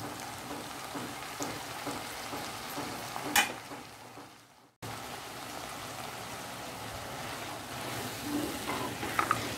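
Drumstick flowers sautéing in a pan with a spice mixture give a soft, steady sizzle with light stirring, one sharp clink of a spoon, a brief drop-out near the middle, then sizzling resumes, fairly quiet and close.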